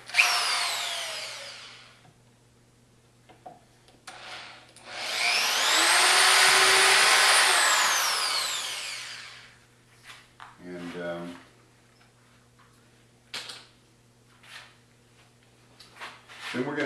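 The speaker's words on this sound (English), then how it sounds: "pilot drill it." A power drill bores a pilot hole at a center-punched mark through epoxy on a wind turbine part, one sustained whine of a few seconds, with shorter bursts and someone talking around it.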